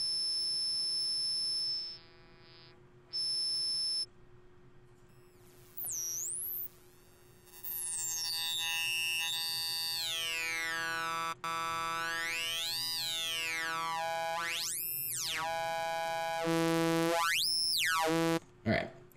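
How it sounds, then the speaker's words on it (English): Hard sync oscillator tone from the Massive synthesizer: a bright, buzzy synth note played in several bursts with short gaps, its harmonics sweeping up and down in sharp arcs. It sounds loud and alone, with no talking. "let's select the hard sync oscillator,"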